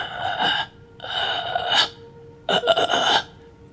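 A human voice imitates someone gasping for breath: three strained, raspy gasps, loud and close, separated by short silences.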